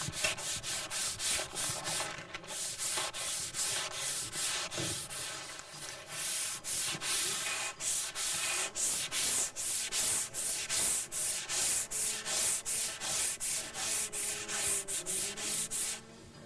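A large sanding block is worked in steady back-and-forth strokes over primer with guide coat on a car body panel, a close, continuous rasping rub that keeps an even rhythm throughout with no talking.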